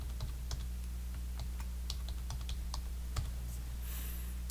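Someone types a password on a computer keyboard, a series of light, irregular key clicks over a steady low hum.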